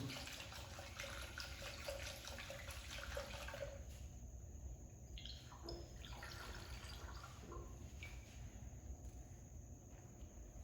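Water runs into a pycnometer holding a soil sample during a lab specific-gravity test, a steady stream that breaks midway into intermittent trickles and splashes, quiet and close with no talking.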